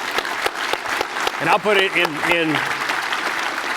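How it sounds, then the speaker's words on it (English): Audience round of applause at a speaker-series event, dense clapping filling the whole stretch while a voice speaks briefly over it in the middle. "can we give a big round of applause?"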